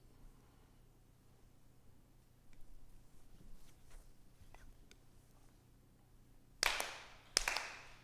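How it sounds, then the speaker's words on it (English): Sharp ritual hand claps ring out near the end of a quiet stretch at a Konko fall memorial service, coming in quick bursts after faint rustles and soft murmuring in the room. "4 sincere claps."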